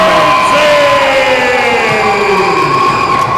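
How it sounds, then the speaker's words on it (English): A wrestling arena crowd erupts into loud, sustained cheering and yelling for the return of a Hall of Famer, a continuous dense roar with whoops and shouts throughout. "The crowd erupt for Sage Ramsey"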